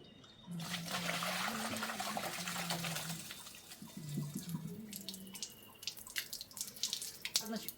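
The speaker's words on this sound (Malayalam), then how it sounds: "അപ്പോൾ നമ്മളൊരു 4 പ്രാവശ്യം കഴുകിയിട്ട് പിന്നെ ഇത് അരിച്ച് വെക്കുകയാണ്." Black rice being rinsed in water and strained, with running and splashing water from a tap into a sink heard close up for most of the clip, along with some clattering and a few low background tones.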